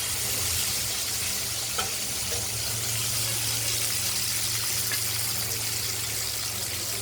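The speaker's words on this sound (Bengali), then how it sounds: "কড়াইতে তেল গরম হয়ে গেছে। আমরা মাছগুলোকে ভেজে নেব" Katla fish frying in hot oil in a pan, a dense, steady hiss and crackle close up, unbroken for the whole stretch with no voices.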